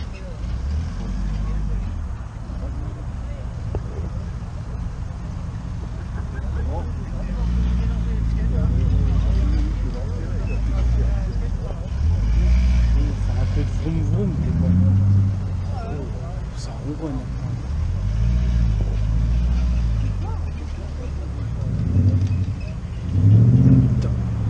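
A car starting off and accelerating at a classic car gathering in Vagney, with a steady low engine rumble that swells and surges several times, heard under ongoing talk.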